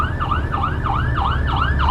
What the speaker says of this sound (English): I think you can hear an ambulance behind us